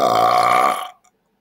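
A single loud, drawn-out burp close to the mic, lasting under a second and trailing off into silence, with a tiny faint afterthought.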